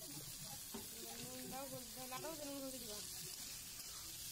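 Tomato, onion and green chili fry in a pan with a soft, faint sizzle and hiss running underneath a voice speaking throughout.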